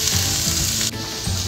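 Mushrooms, potatoes and onions frying in a pan give a steady, close sizzle and crackle with faint scraping of stirring, briefly dipping near the end before resuming.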